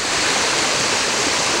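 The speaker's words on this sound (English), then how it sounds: "There's a large pool here and a nice cascade up ahead behind this awesome rock" A creek cascades over rocks beside a large pool at Bandy Creek in Big South Fork, Tennessee, producing a steady, close, full rushing roar of falling water with no breaks and no voices.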